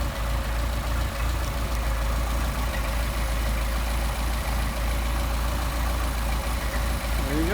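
A Mercedes 190SL engine on Solex carburetors idles at 700 RPM, a steady, even low rumble held close and constant with no revving.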